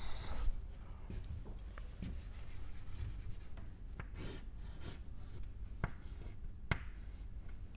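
Writing equations by hand during a physics lecture on magnetic properties of solids, with faint, soft scratching strokes and occasional taps in a quiet room.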